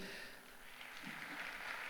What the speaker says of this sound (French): Merci de réserver un tonnerre d'applaudissements à nos invités